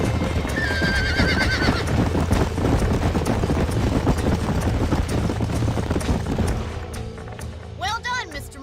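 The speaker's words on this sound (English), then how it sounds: "These are fine horses." Horses in the video game Red Dead Redemption: a loud, shrill neigh rings out early, then hooves clip-clop steadily over a windy outdoor rumble, and a second whinny rises near the end while voices talk around them.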